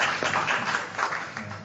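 Audience applause at a DXN rank celebration gathering, a short burst of steady hand clapping from a seated crowd, moderately loud and continuous.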